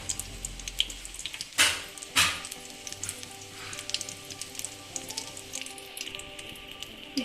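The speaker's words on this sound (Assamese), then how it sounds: "এইখিনি ফ্ৰাই কৰি আছোঁ" Aloo chop (potato chops) frying in hot oil, a steady crackling sizzle throughout with two louder bursts of spattering near the start, close and fairly quiet.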